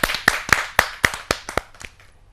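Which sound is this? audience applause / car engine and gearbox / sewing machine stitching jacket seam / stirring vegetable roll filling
audience applause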